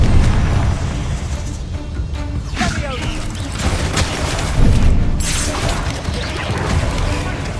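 Magical blast spells, Confringo, in Hogwarts Legacy during a duel, several booming impacts and crashes scattered over a noisy combat mix, with a voice calling out spell names throughout.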